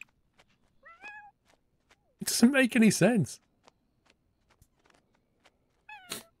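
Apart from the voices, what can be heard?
cat meowing in The Sims 4 video game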